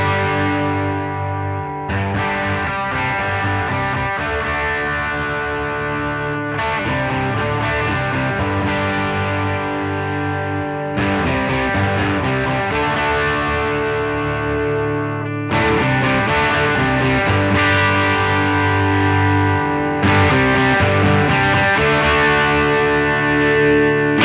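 Electric guitar played through a Way Huge STO overdrive pedal into a Strymon Iridium, chords ringing out loud and sustained with distorted, saturated tone and brief pauses between phrases.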